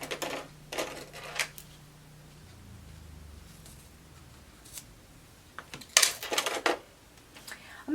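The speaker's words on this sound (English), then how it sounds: "I'm going to cut a piece of fabric." Scissors snip through quilting fabric in a few short, crisp bursts near the start, then quiet handling, and a closer cluster of cuts around the sixth second.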